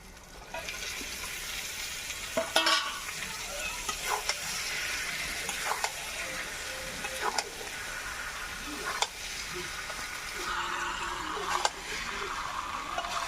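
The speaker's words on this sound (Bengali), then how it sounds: "সিদ্ধ করে রাখা মাংসটা ঢেলে দেবো" Boiled chicken tipped into a hot pan for a chicken curry cooked with ground spice paste and turmeric, giving a steady, close sizzle throughout, with intermittent scraping stirs of a spatula.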